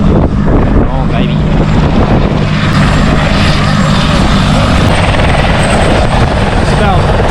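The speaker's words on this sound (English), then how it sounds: "It is helicopter town" A helicopter roars close and loud at the Phillip Island MotoGP on a windy day, its rotor thudding steadily throughout with wind buffeting the microphone.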